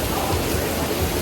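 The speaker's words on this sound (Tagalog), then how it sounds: "Ang lakas ng ulan, guys, oh." Heavy rain pours down steadily in Singapore, a loud, dense hiss of drops that fills the air without a break.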